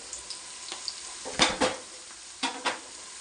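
Chicken biryani masala frying in a pan, heard as a few quiet scrapes and clinks of a spoon against the pan over a faint sizzle, with no talk.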